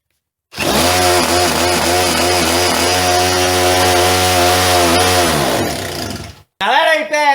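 A small mini bike engine with its throttle wedged halfway open by a chunk of wood, starting abruptly and running at a loud, steady, buzzing idle close by for about six seconds, then cutting out and briefly firing up again.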